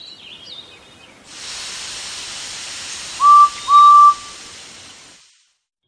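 A cartoon steam engine from a Thomas & Friends story lets out a long steady hiss of steam followed by two short, bright whistle toots, close and clear, with no talk.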